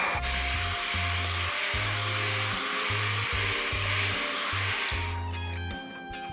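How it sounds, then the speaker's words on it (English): Heat gun warming a Onewheel traction pad: a steady loud airy blower roar with a hum that pulses on and off as it is switched or moved, then cuts out near the end. "I'm going to grab the heat gun again here"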